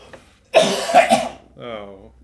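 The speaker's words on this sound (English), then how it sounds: "He was just doing some heavy-duty coughing." Two or three harsh, heavy coughs burst out close by, followed by a short voiced exhale or throat sound.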